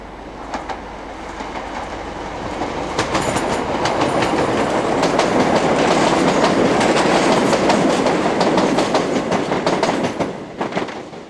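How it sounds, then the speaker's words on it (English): An LNER train leaves Cambridge station's single through platform, rising rumble and rhythmic clickety-clack of wheels over rail joints, loud and close, easing off toward the end. "This one is leaving Cambridge's unique single-through platform"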